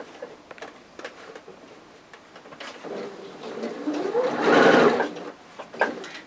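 Sewing machine stitching a fabric tote bag with a zipped divider and pocket, starting as soft irregular clicks, then running in a rising whir that peaks before slowing, with a few sharp ticks at the end.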